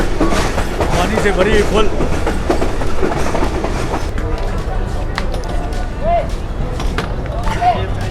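A Safari Train runs on railway tracks between Rawalpindi and Attock Khurd. Its close, steady rumble and rhythmic clatter go on throughout, with someone talking over it.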